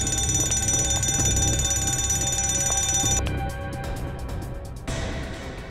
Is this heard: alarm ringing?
yes